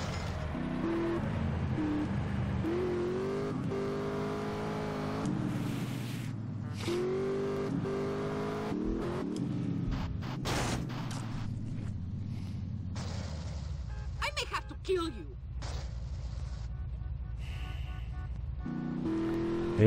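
A car drives in the video game GTA San Andreas with a continuous engine drone whose pitch climbs and drops through gear changes and revving, plus scattered bumps and crashes, loud and steady throughout.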